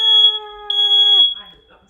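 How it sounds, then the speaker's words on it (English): A sensitive home smoke alarm set off by an opened oven sounds with two loud, piercing steady tones, broken by a short gap, then fading out as a voice briefly starts. "If we don't turn the vent on, when we open the oven, the fire alarm goes off"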